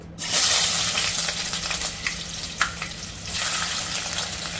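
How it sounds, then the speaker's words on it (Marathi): Onion dropped into hot oil in a home kitchen pot gives a loud, steady sizzle that bursts up at once and keeps frying with a few small pops, no voices. "तेल मस्त झाले गरम. आता मी कांदा ऍड करते याच्यात."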